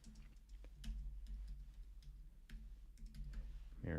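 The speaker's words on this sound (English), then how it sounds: "And then we're going to just double click and then type in" Quick clicks of typing on a computer keyboard while entering text into Act! CRM software, close and light, in short irregular bursts over a low steady hum with faint background noise.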